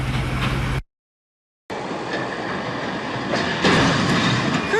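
Railroad cars being hauled away from a train derailment site in Tulsa, a steady rumbling rail noise with metallic rolling and faint squeals, continuous after a brief gap of silence.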